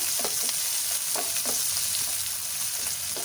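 Food fries in a hot pan, likely a Kannada home-kitchen dish, a loud, dense continuous sizzle close up with faint stirring scrapes, no voices over it.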